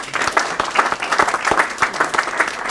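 Audience applause at a Rotary grant awards meeting, a brief burst of many hands clapping together in a room, steady and fairly loud throughout.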